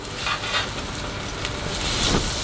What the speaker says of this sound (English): they've been sizzling a while